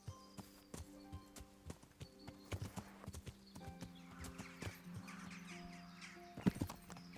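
Rhythmic hoof clip-clop of a galloping horse in the video game Kingdom Come: Deliverance, fairly close, with a short neigh near the end over a steady low hum.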